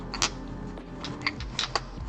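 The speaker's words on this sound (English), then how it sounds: "I love the sounds of nail polish bottles clicking around." Small glass nail polish bottles clink and tap together in a handful of light, sharp clicks over a quiet rustling background.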